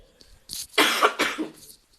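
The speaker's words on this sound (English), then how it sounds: "I still have a little cough" A single close, harsh cough in two or three rough bursts, loud and dry, with a quiet room otherwise.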